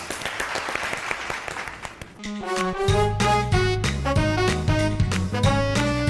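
Studio audience applause on a television show, a couple of seconds of clapping that quickly gives way to loud music with a strong beat and a melodic line.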